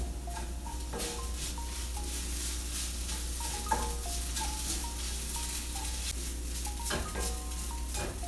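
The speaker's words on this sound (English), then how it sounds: "And while that's pan frying, I'm going to use my everything bagel seasoning." Food pan-fries with a steady sizzle throughout, and a few clinks and stirring knocks of a utensil against the pan come through while noodles are toasted before seasoning goes in.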